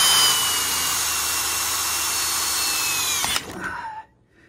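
A power drill bores a hole through hard metal, a loud, steady high-pitched whine up close that suddenly breaks through and winds down to silence at the end.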